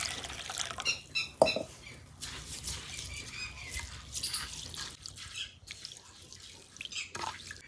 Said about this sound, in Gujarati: હવે એને આપણે છે ને એક પાણી ધોઈને પછી થોડીક વાર માટે પાણીમાં મૂકી દઈશું એને.